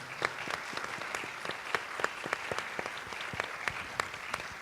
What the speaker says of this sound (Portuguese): Então, aplausos para o Léo